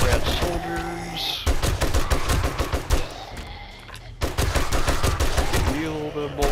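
Rapid bursts of gunfire in the survival game 7 Days to Die, loud close shots in quick strings with brief pauses between volleys, over game ambience.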